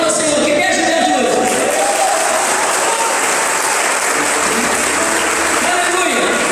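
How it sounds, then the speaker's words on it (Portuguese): A church congregation at a Sunday evening family service breaks into sustained, dense applause that fills the room throughout, with a voice speaking over the clapping. "Se é verdade, os homens aplaudem ao Senhor."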